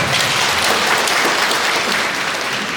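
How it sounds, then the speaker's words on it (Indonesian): Steady applause from a crowd, dense and continuous throughout with no voices standing out. "Tepuk tangan dulu semua"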